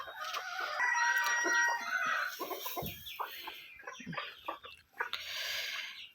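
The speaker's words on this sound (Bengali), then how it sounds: "এখন মুরগিগুলোকে ছেড়ে দিলাম" Chickens cluck busily nearby while a rooster crows, with overlapping fowl calls filling the whole stretch at fairly strong volume.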